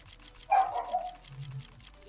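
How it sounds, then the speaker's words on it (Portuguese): A single dog bark sounds out, fairly close, followed by a brief low grumble, with quiet room noise around it. "O cachorro tá foda hoje."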